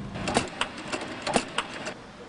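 A sewing machine stitching a sail, heard as a quick, uneven series of close mechanical clacks and taps over about two seconds.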